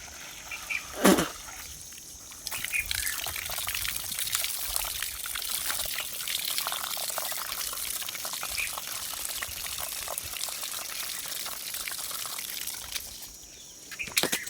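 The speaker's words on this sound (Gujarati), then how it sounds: "આપણે મોટર ચાલુ કરી દીધી છે। હવે આપણે જોવી પાણી આવે છે કે નહીં।" Water from the pipe of a running electric motor pump near a Bajrangbali temple in Kalmad gushes in a steady, continuous splashing hiss. It starts abruptly after a brief knock and tapers off near the end.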